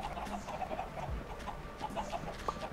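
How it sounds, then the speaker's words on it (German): Chickens in the Minecraft video game clucking in short, scattered bursts over quiet background sound, with no talking. "gehen wir auch mal hier eben kurz zu den Hühnern"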